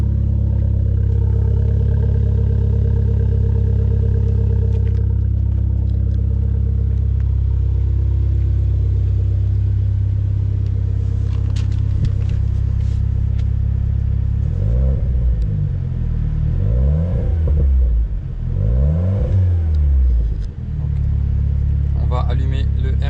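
A warm Renault Clio 4 RS engine in sport mode idles at a standstill with a deep steady rumble, then is revved several times in quick rising bursts before settling back to idle; a voice speaks briefly.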